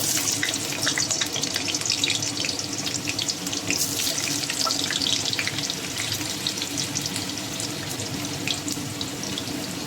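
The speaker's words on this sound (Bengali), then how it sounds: "তেলটা গরম বসিয়ে দিয়েছি। আমি সাদা তেল দিয়ে রান্নাটা করব। এখন আলুগুলো ভেজে নেবো।" Potatoes frying in hot white oil for a chicken and vegetable curry, giving a dense, continuous, loud hiss-like sizzle with no pauses and no talking.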